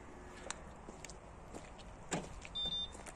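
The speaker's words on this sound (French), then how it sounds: "Là elle se ferme et on entend le petit bip bip." Faint clicks and light movement, then a solid thunk as a small car fuel flap shuts, followed by a short high electronic beep.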